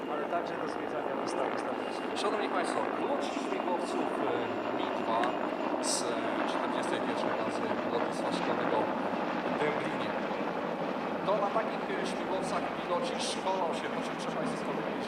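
A Mil Mi-2 helicopter flies at an airshow with a steady, broad rotor and engine roar that holds at a constant level, and a commentator talks over it the whole time.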